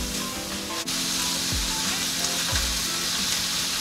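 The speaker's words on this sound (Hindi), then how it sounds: "इसको अच्छी तरह से फ्राई करते हैं।" Sliced carrots frying with salt and black pepper in a pan, a loud, continuous sizzle and hiss with a few low clunks of the pan or spatula, no talk.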